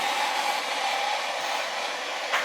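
A heat gun blows a steady stream of hot air at close range while rear bash bar parts are fitted on a manual C8 Corvette drift car, a constant broadband whoosh with a faint tonal hum and no speech.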